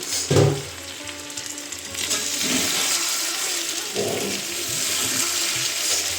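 Meat cooking in a pan on a home stove, a loud, continuous sizzling hiss with a brief louder burst at the start, steady and close throughout.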